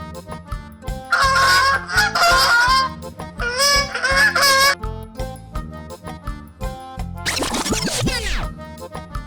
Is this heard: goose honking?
yes